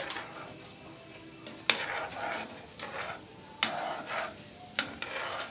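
Sweet and sour yellowfin tuna being stirred in a sizzling pan, a soft frying hiss broken by three sharp clinks of the utensil against the pan, with no talking.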